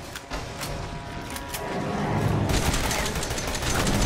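Rapid gunfire bursts in the survival horror game Resident Evil 7, dense repeated shots that grow louder and busier toward the end, with faint voice underneath.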